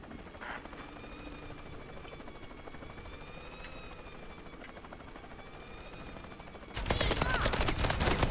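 Helicopter in a video game, a steady, moderate rotor drone running for several seconds before a sudden loud burst of rattling noise takes over near the end.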